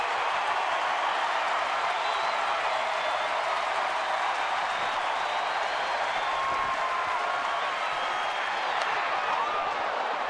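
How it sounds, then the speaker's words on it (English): San Francisco Giants fans fill a baseball stadium, a dense, loud and steady roar of cheering and clapping that stays constant from start to finish, with no distinct voice standing out. "the crowd on its feet again looking for the finisher"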